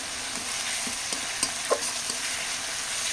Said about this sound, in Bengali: এটা কিন্তু লবণ না দিয়েই ভালো করে কষাতে হবে